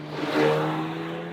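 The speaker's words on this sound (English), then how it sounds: "So 2-litre turbocharged 4-cylinder petrol engine." The 2-litre turbocharged four-cylinder petrol engine of a 2023 Haval H6 GT hums from inside the cabin, rising briefly in a mild rev before settling into a steady drone.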